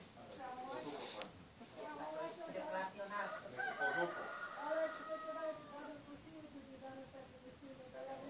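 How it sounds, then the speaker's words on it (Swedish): A proud rooster crows several times on a farm in Toponica, the drawn-out calls fairly close and clear, with soft clucking and a quiet voice in the background. "Där har vi den ståtliga tuppen."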